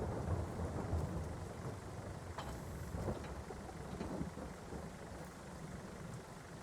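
Steady rain falls on a farm tractor during a rural Canadian outing, a dense continuous hiss with faint distant rumbles mixed in, heard alone with no talking.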